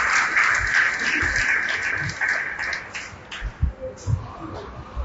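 An audience claps together at a spiritual lecture on the Srimad Bhagavatam. The clapping is loud and steady for about three seconds, then thins into scattered claps and faint voices.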